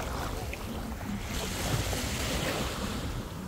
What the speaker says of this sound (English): This beach is absolutely beautiful.